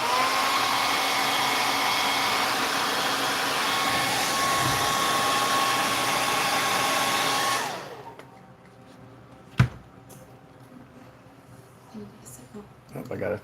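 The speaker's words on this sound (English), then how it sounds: "So I'm gonna hit that knee with the hair dryer." A hair dryer blows steadily and loudly for several seconds, drying spot putty on a knee in a body repair job on a vehicle named Pearl, then cuts off into quieter shop noises with a few clanks.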